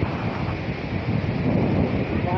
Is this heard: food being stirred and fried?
no